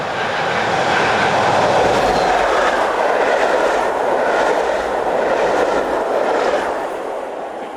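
A Class 218 diesel-hauled passenger train runs past on a German line during an April shower, a steady loud rumble with wheel noise, easing off slightly toward the end.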